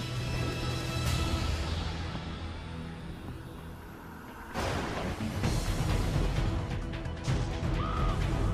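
A crow caws amid dark cinematic ambience, with a harsh call standing out near the end over a low, sustained rumble.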